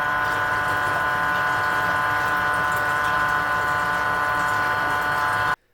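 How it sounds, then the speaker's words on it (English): A Tunze Osmolator aquarium top-off pump gives a steady, loud mechanical hum with a droning pump whine that runs continuously, then cuts off abruptly near the end. "So when the pump turns on to top off the water"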